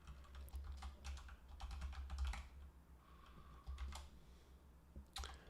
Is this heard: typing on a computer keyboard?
yes